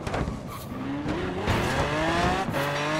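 Forza Horizon 4 car drifting, its tires squealing in long, rising screeches over a loud engine drone that cuts in and out as the car slides.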